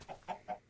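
Chicken in the video game Minecraft, three quick soft clucks in an even rhythm, faint and close with no talking over them.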